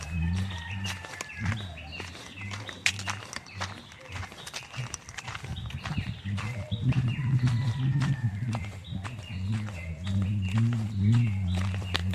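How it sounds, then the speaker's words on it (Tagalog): Chickens cluck and birds chirp outdoors, a steady mix of calls, with scattered footsteps and clicks over a low ambient hum. "Naririnig na yung mga manok, ibon."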